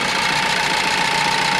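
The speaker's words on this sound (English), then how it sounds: "So I'm gonna let it idle," A Ford Focus engine that had been sitting and was hard to crank idles just after starting, with a steady, continuous, even rumble and no voices.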